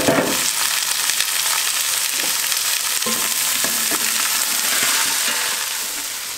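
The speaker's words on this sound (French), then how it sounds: "on ajoute l'ail et l'oignon et on le fait dorer aussi à son tour." Garlic and onion frying alongside a browned pork roast in a hot pan, a loud steady close sizzle and crackle that continues without pause and fades slightly at the end, with no talking.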